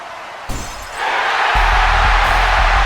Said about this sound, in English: And the glass shatters, the crowd erupts, and Shawn Michaels is nervously sweating.